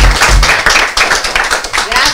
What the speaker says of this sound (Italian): Io farei un applauso a questi ragazzi